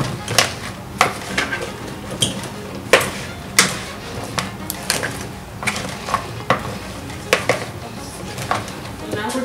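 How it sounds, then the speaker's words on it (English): Cauliflower being stirred in hot sauce, with a spoon repeatedly clacking against a bowl in irregular sharp knocks over a wet, squelching mixing sound. "I'm just gonna mix it all together so every part of the cauliflower can get coated."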